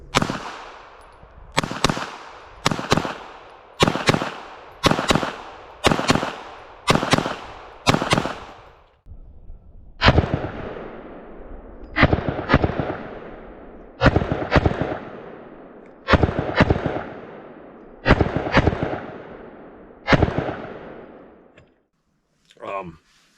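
A Girsan BRAT 2011 pistol with an upgraded trigger and an optic fires two quick strings of loud, close shots, about eight and then seven, each crack followed by a short echoing tail.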